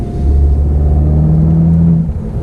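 A car engine with a freshly replaced high pressure fuel pump runs close by with a deep, throaty rumble, holding a steady low drone with a slight rise in pitch for a couple of seconds, no voices over it.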